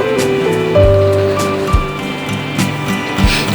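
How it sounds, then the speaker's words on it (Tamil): Cornflour slurry is poured into simmering gravy for a roadside kaalan masala. The liquid splashes and sloshes close by in a few soft, wet bursts over a low background hum. "இதை நான் இந்த கிரேவியில் ஊற்றிடுறேன்."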